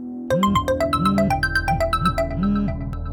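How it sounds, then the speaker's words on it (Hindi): A phone ringtone plays a repeating electronic melody, loud and close, several rising-falling tone bursts in a row with no talking. "उसने फिर से मुन्ना को फोन किया।"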